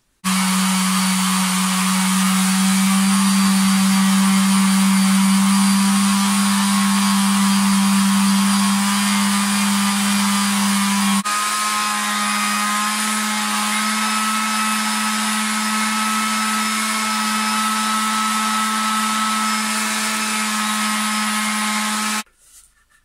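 An electric router with a newly bought bit cuts channels for carbon fibre rods into a guitar body, a loud, steady high-pitched whine that runs continuously for about 22 seconds, shifts slightly midway, then cuts off abruptly.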